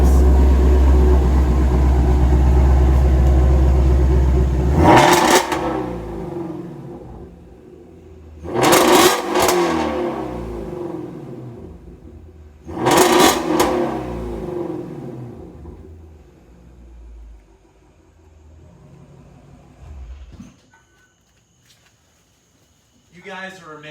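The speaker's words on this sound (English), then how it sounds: "So I'm gonna open up the exhaust" A 2020 Shelby GT350R Heritage Edition with its exhaust opened idles with a deep, loud rumble, then barks through three sharp revs a few seconds apart, each swelling and falling back to a lower idle before the engine shuts off.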